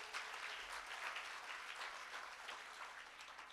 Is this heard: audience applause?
yes